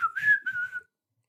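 A voice imitates a ghostly whistle: one sustained, wavering tone lasting under a second, sliding slightly, with breathy texture around it, close and alone.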